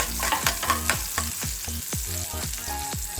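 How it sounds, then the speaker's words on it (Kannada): Onion and green chillies roasting in a pan with ginger and garlic, a bright continuous sizzle punctuated by repeated rhythmic scrapes of a spatula stirring, close and alone. "ಮೆಣಸಿನ್ಕಾಯಿ ಮತ್ತು ಈರುಳ್ಳಿನ ಸ್ವಲ್ಪ ರೋಸ್ಟ್ ಮಾಡ್ಕೋಬೇಕು"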